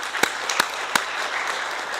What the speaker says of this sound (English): I would really like to have a big round of applause for the people who have made this possible.